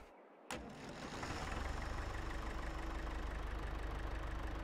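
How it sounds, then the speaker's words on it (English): Tractor engine in a farming video game idling and running steadily at a moderate level, starting abruptly after a brief silence and continuing alone without talk. "We'll jump on a tractor."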